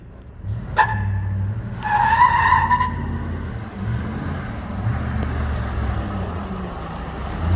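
A Chevy Suburban with a blown rear end doing front-wheel-drive burnouts: two sharp tire squeals cut over a low, steady engine rumble, then the motor drones on alone at moderate distance.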